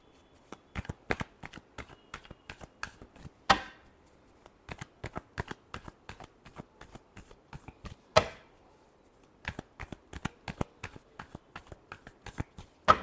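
Tarot cards are shuffled by hand in quick, crisp snapping riffles and taps, a long run of close, sharp bursts with brief pauses between them.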